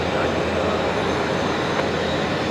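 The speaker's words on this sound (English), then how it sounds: "Right, the A330, there it is, the Qantas 97 service going to Manila." A Qantas Airbus A330 airliner at Brisbane Airport at night, a steady broadband roar of jet engines, continuous and fairly loud throughout with no distinct changes.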